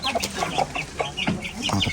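A Korean-breed rooster clucks repeatedly up close, a quick run of short, throaty clucks with no talking.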